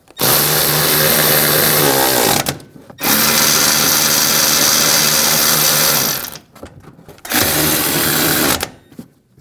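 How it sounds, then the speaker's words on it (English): A power tool with a 15mm socket tightens the front strut top nuts on a 2011-2018 Ram 1500 3.6L V6, running in three loud, sustained whirring bursts separated by brief pauses. "Taking a 15mm socket, we'll tighten the nuts down at the top."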